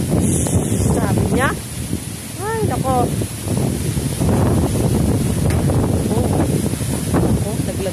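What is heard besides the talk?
strong typhoon wind, Typhoon Ulysses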